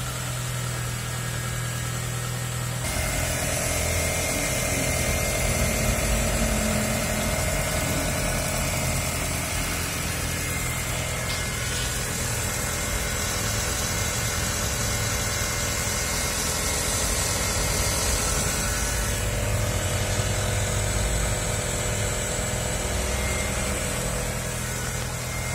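A VW Gol fitted with an Audi AP engine idles steadily while warming up, a constant close engine drone with a high whirring hiss that shifts in level a few times, with no talking.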